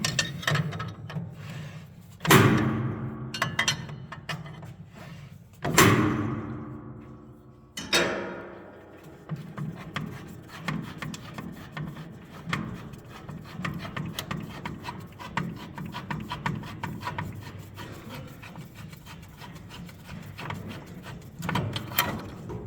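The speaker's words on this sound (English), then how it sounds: "Okay, the whole thing comes off. It's a little heavy." Upper conveyor being pulled off a Carruthers AE5000-2D machine during a sanitation teardown: three loud metallic clanks ring out early, then continuous scraping, rubbing and rattling of parts as it slides free, with no speech.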